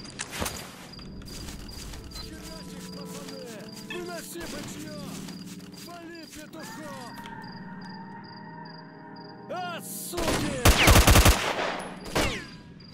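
Bandits firing shotguns in STALKER: Shadow of Chernobyl, with sparse shots and footsteps early on, then a loud, rapid cluster of blasts near the end over faint game ambience.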